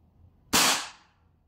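A WE Hi-Capa T-Rex gas blowback airsoft pistol fires a single sharp, loud shot that cracks suddenly out of quiet and decays over about half a second.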